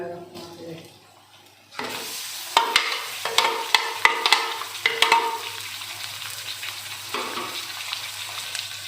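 Chicken is dropped into a hot pan for chatpata chicken masala and bursts into a loud, continuous frying sizzle after a brief quieter start, broken by repeated scraping stirs and clinks.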